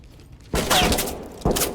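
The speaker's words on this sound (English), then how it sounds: "He's shooting at me right there." Enemy gunfire in the tactical shooter Ready or Not, inside an old hotel: two sharp, loud bursts of shots close by, the first lasting nearly a second and the second brief, following a quiet moment.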